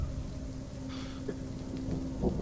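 Rain pours steadily outdoors as a constant wash of hiss over a low rumble, with a few brief distinct splashes or knocks standing out near the end, and no voices.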